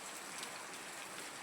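Steady rain hisses down across a short stretch during a thunderstorm, a dense even wash with no distinct thunderclap, fairly quiet and without voices.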